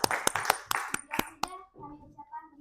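A classroom of students claps after a group presentation, a short burst of several sharp, distinct hand claps that stops quickly, then gives way to someone speaking.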